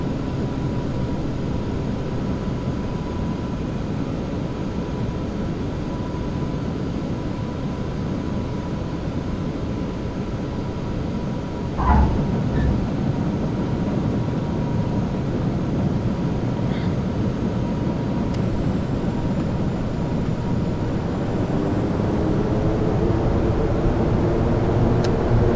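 A light aircraft engine idles steadily close by with a constant broadband drone and a faint tonal hum, holding level throughout with one brief knock partway through.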